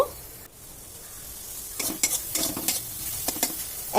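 Spice paste with sugar for a fish curry fries in a pan, first a soft steady sizzle, then a series of sharp scraping stirs against the pan in the second half.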